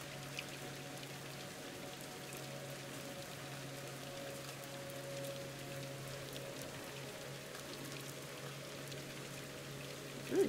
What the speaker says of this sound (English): I'm just going to let you guys enjoy the rainy vibes for a second.